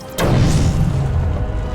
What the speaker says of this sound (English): we'll take out the explosive gel, plant it right there on the Titan container,